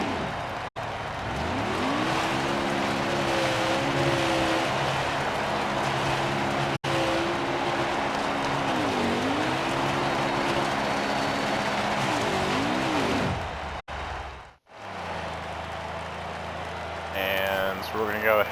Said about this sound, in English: we'll go ahead and do a burnout here at Bristol